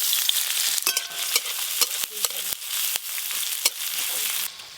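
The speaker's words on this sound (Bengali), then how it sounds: "ওই একই তেলে রসুন আর পেঁয়াজ ভালো করে ভেজে নেব" Garlic and onion fry in mustard oil in a home kitchen pan, a steady loud sizzle broken by sharp stirring scrapes and clinks, with no talking.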